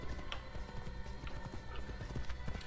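A horse gallops in Assassin's Creed, with rapid rhythmic hoof clip-clops close up and steady over a busy outdoor game ambience.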